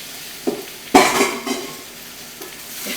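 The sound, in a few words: stirring potatoes in a pot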